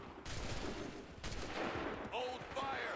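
Musket volleys in Assassin's Creed III, ragged bursts of gunfire crackling close and loud, mixed with game sounds and voices.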